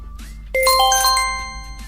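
A phone notification test sound plays as a bright chime of several rising, ringing tones that start suddenly and fade out over about a second, loud and close, with a faint earlier tone beforehand.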